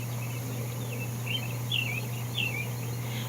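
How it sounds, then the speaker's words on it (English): Birds singing outdoors first thing in the early morning, several thin chirping calls repeating in short bursts at a moderate distance over a steady low hum. "Because listen to those birds."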